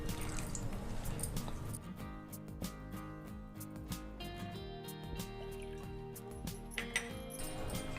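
Water poured little by little from a cup into custard powder in a bowl while mixing: a close, steady trickling and dripping of liquid with soft splashes, continuous throughout and free of speech.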